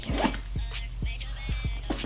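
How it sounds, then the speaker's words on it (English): A zipper on an ivory clasp handbag is drawn open in several quick, close ratcheting pulls, crisp and near, with a faint voice in the background. "And then you unzip it down the middle."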